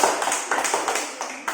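A classroom of students clapping together for a group of classmates, a quick series of loud, evenly spaced claps in a steady rhythm that pauses briefly near the end before one last clap.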